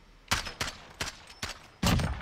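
Gunfire in a shooter video game, several sharp bursts in quick succession, fairly faint, ending in a longer louder burst.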